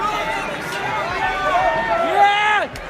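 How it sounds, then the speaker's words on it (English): Live WWE wrestling crowd cheering and shouting in an arena, a dense roar of many voices with rising chants and yells throughout, loud and steady before dropping off near the end. "The crowd then started encouraging the fan to throw the briefcase in"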